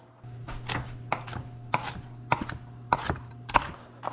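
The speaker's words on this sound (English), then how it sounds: "And we're just gonna chop these roughly." Walnuts are chopped roughly with a knife on a board in a run of sharp, uneven chops, about eight to ten crisp knocks over a low steady hum, and nobody speaks.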